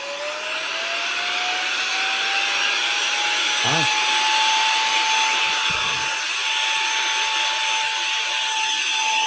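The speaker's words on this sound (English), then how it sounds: "Try and hoover up your little bit of..." A vacuum cleaner fitted with a small brush head runs with a steady, loud whine and rushing airflow throughout, with a brief knock or bump partway through.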